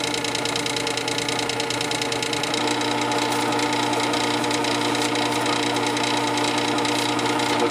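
A Work Sharp 3000 powered sharpener spins steadily with a DMT honing plate while a chisel bevel is honed under light pressure, a constant mechanical whir and buzz, close and unbroken for the whole stretch.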